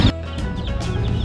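Caged quails at a cheap animal market in Grotto, San Jose del Monte, Bulacan, giving loud, close clucking and chirping calls in quick succession, with no talk.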